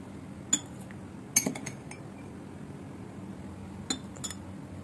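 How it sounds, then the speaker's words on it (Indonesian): A spoon puts coffee into drinking glasses, giving a few sharp, quiet clinks of metal on glass spread out against faint room hiss, with no talking. "sekarang saya akan memulai eksperimennya dengan memasukkan 1 sendok kopi ke dalam setiap gelas"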